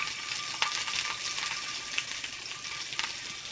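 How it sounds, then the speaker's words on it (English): Chicken cutlets crackle and sizzle in hot oil, a continuous bright frying hiss with occasional sharp pops and no talking. "We love the sound of sizzling on this show."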